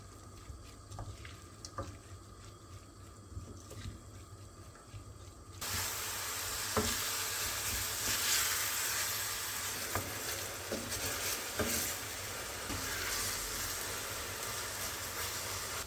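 Onions sizzle and crackle steadily in a hot pan, starting quiet and then jumping to a loud, continuous frying hiss with occasional stirring clicks.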